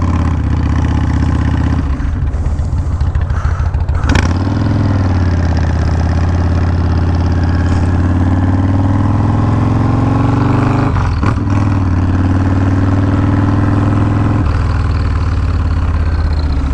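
A Yamaha Road Star Warrior cruiser motorcycle idles loudly close by in a deep, steady rumble, with a couple of brief throttle blips breaking the idle.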